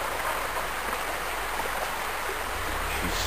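Steady, loud rushing of creek water flowing in Roberts Creek, a continuous broadband wash where chum salmon spawn, with no breaks or voices.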